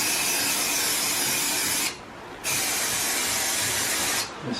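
Glue activator sprayed from an aerosol can onto a Shaker-style cabinet drawer front: a loud, steady hiss in two long bursts separated by a brief pause, with a short break near the end.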